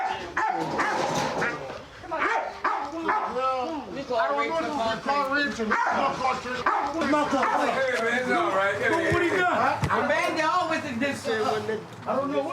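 Police K-9 barking and whimpering during a nighttime arrest on a street, heard close amid constant shouting and overlapping voices of officers and bystanders.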